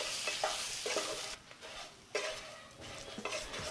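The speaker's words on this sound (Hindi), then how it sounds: "1 चम्मच धनिया पाउडर, 1 चम्मच कश्मीरी लाल मिर्च, हल्दी पाउडर और सबको हम अच्छे से मिक्स कर देंगे।" A spoon stirs coriander powder, Kashmiri red chilli and turmeric with green chillies in a kadhai, making repeated scraping, clinking strokes over a soft sizzle, with no talking.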